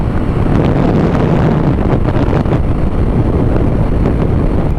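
Strong wind buffets the microphone throughout, a constant rushing roar with gusty bursts, like air streaming past while moving fast.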